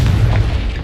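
A Confringo spell blast in the video game Hogwarts Legacy, a single loud, close, deep boom with a rumbling low tail, heard alone.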